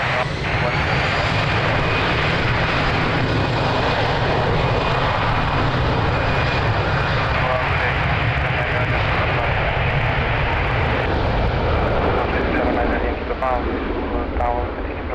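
A large airliner powers up for takeoff on runway 02 at Lisbon Airport, a loud steady roar of jet engines that holds for the whole stretch in windy weather, with faint radio chatter beneath.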